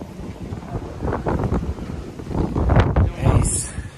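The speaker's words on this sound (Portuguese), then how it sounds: "tá muito vento, mano." Strong outdoor wind gusts buffet the microphone in a steady low roar that swells and peaks toward the end, with some indistinct voices underneath, recorded at a waterside fishing spot.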